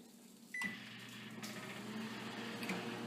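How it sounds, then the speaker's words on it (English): Steady low hum of a microwave running after a single short beep near the start, fairly quiet, heating a chili cheese dog. "I'm gonna put that in the microwave probably for like probably a minute"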